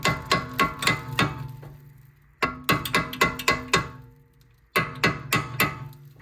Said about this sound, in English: the small wheel bearing should pop off, but it didn't, so I'm gonna hit it with the hammer